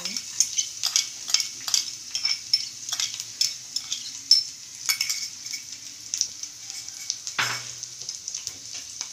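Finely chopped garlic, about five cloves, frying in oil for veg manchuria, a bright, steady sizzle close by with frequent stirring clicks and scrapes of a spoon against the pan, and one louder clatter near the end.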